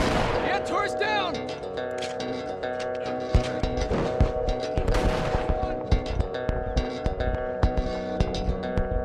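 Double-barrel shotgun blasts and other gunfire in The Last of Us multiplayer, loud bursts in a dense, busy firefight with game effects layered over them.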